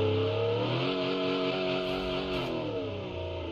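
A rally car engine in BeamNG held at full throttle gives a loud, sustained, droning roar whose pitch climbs and then eases slightly, heard alone and close.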